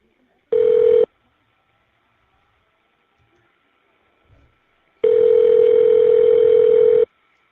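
A telephone dial tone on a prison calling line sounds as two steady tones, a short half-second burst and then a longer two-second tone, with near silence in between.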